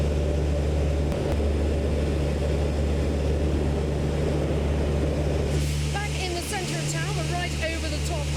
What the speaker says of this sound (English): here's Ross Kane and his funny little plane